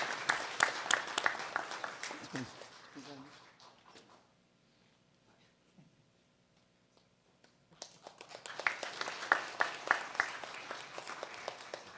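A church congregation claps during a Sunday worship service, in two full bursts of steady applause separated by a quieter pause of several seconds.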